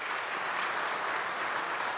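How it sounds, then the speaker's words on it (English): A church congregation claps warmly to welcome a pastor, dense, steady applause from a large crowd, evenly sustained throughout with no talking over it. "So let's give a warm St. Mark welcome to Pastor Tyler Moore."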